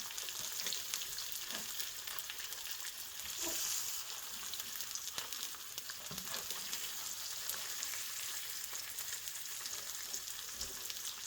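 Eggs fry over medium in a pan, a continuous close sizzle and crackle with faint pops, steady and alone without speech.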